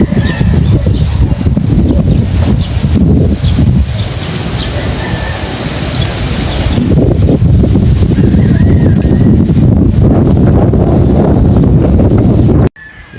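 Strong typhoon wind roars across a large farm in the Philippines, loud and gusting with heavy rain battering and a brief lull midway, then a sudden cut at the end.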